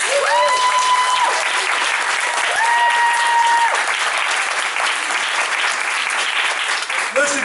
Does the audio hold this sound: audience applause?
yes